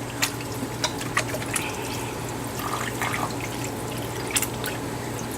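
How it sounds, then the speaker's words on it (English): Water running from a kitchen tap as hands are rinsed, a steady low splashing stream with a few brief drips and clinks over a constant hum, close by and fairly quiet. "Give my hands a quick rinse."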